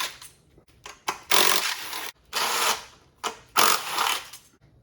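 Screws being removed from an engine with a hand tool while chasing a misfire, with several bursts of close, gritty ratcheting and scraping separated by short pauses.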